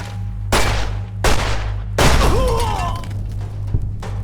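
Gunfire from a weapon in the video game Fallout, heard as three loud, sharp shots about three quarters of a second apart, the last ringing out with a whining metallic tail.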